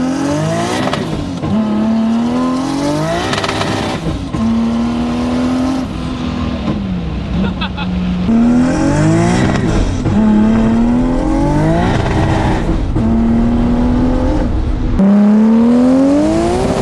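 An 800-horsepower Nissan 240SX S14 accelerates hard through repeated gears, its engine climbing loudly to high revs, dropping at each shift and climbing again, with a hint of tire squeal, all close and intense from inside the car.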